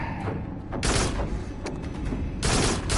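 Rapid gunfire from shooting at bugs in the Farpoint VR game, coming in several loud, dense bursts, the heaviest near the end, over a steady low rumble with no talk.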